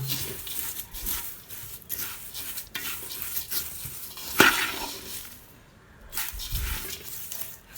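Grated coconut is roasted in a pan and stirred now and then, giving soft scraping and rustling swishes in uneven bursts over a light sizzle, with one sharp clink of the utensil partway through.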